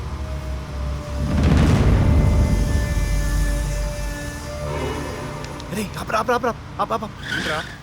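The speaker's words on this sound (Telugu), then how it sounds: "ఓపెన్ చేస్తే ఒక కారు అలా వెళ్తుంది" In a movie scene a car drives past with a rising and fading engine roar and some tire noise. Speech follows near the end.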